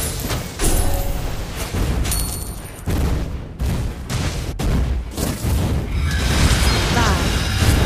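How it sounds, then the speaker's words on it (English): Game explosions in a Mobile Legends-style MOBA as a turret is destroyed: dense booms and crackling bursts fill the whole stretch, loud and continuous, with a brief drop near the middle before the blasts resume under an announcer-style voice. "Your team destroyed a turret!"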